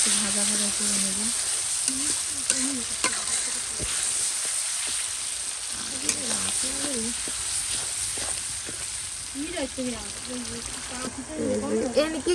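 Onions fry with ginger garlic paste in a pan, a steady close sizzle with occasional stirring scrapes, while someone talks over it throughout.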